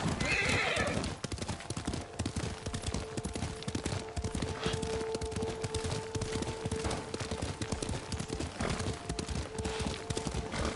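Horse hooves clip-clop in a steady galloping rhythm in a samurai video game, opening with a sharp neigh, with faint tonal music and low background effects underneath.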